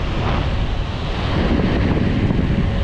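Strong wind roars and buffets continuously, close and loud, while riding an electric scooter uphill into the wind, with a low rumbling undertone and no voices.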